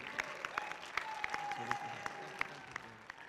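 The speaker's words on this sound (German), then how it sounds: "Nochmal einen Applaus bitte." Audience clapping at a tournament award ceremony, a soft, steady patter of many hands with scattered sharper claps, somewhat distant, with a brief faint tone through the middle.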